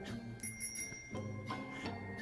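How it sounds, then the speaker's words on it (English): A bicycle bell on a tandem bike rings in several quick, bright metallic dings spaced over about two seconds, faint and somewhat distant over a low background murmur. "This is Ray riding his tandem bike by himself, ringing the bell with no seat."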